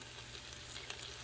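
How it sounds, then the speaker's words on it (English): Steamed, pressure-cooked food sizzling steadily after coming out of an Instant Pot, a faint, continuous crackle with a few small pops and no talk. "You can hear them sizzling."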